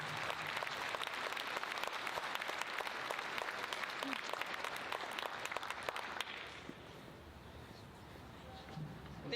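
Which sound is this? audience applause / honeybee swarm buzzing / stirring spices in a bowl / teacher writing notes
audience applause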